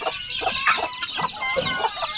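Chickens in coops cluck busily at close range, a dense overlapping run of short clucks and squawks with no voices heard.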